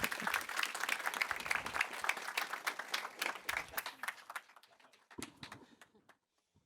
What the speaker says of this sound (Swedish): En stor applåd till Mauri